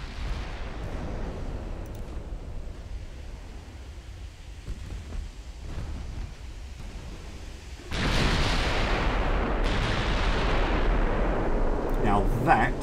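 Heavy 15-inch naval guns fire on a heavy cruiser in a 1920s British naval campaign game, producing a continuous dense rumble of booms that swells noticeably louder partway through.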